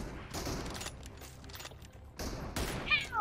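Gunfire in the mobile shooter game PUBG Mobile: two short, rapid bursts of shots about two seconds apart, moderately loud, with quieter game ambience in between.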